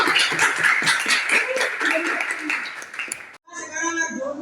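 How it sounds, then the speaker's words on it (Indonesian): A classroom of students clapping hands together in a quick burst of uneven claps for about three seconds, cut off abruptly, followed by a different tonal sound. "Coba tepuk tangan dulu."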